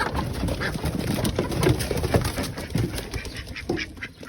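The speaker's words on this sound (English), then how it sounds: "It's always that duck last." A duck quacks in a run of short, raspy calls at close range, fairly loud against faint outdoor background, with no talking.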